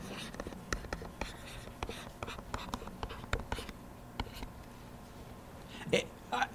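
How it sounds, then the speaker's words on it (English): Handwriting an equation, probably pen or pencil on paper, giving a steady series of short scratchy strokes and taps up close, fairly quiet, with no talking over it. "I'm going to write down the equation."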